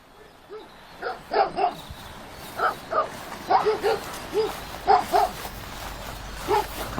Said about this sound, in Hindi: कुत्तों की आवाज सुनाई दी।